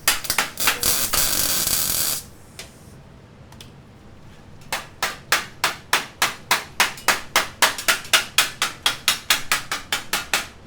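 Welding on metal for a helmet: a loud steady hiss for about two seconds, a quiet pause, then a long regular series of sharp, evenly spaced pulses close by.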